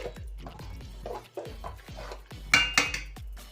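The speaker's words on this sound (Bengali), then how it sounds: "এরপর আমি খিচুড়িটা মাঝে মধ্যে ঢাকা দেব আর লাড়বো লেড়ে নিচ্ছি" Khichdi being stirred in a metal pot with a ladle, a close series of knocks and scrapes against the rim and sides, several sharper clanks near the end.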